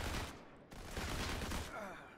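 Rapid bursts of gunfire in Go4MC5, a mobile first-person shooter on iOS, crowd a dense, loud mix that runs almost continuously, with a brief dip partway through.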